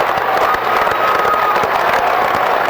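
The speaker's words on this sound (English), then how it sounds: "Please give them a round of applause for their success and longevity in high school basketball." High school basketball crowd applauding a long-serving coach: loud, dense clapping with scattered cheers and shouts from a packed gym, sustained throughout with no break.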